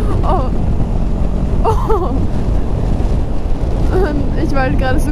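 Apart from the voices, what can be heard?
strong wind rushing past while riding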